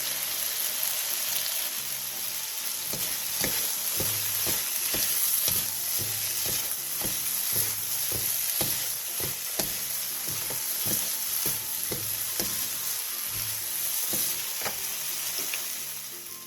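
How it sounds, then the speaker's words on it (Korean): Potatoes with garlic chives, red chili and pepper stir-fry in a pan, giving a constant bright sizzle with repeated light clicks and scrapes from tossing, and no voices. "마지막으로 부추, 홍고추, 후추를 넣고 가볍게 뒤적여 마무리해주세요."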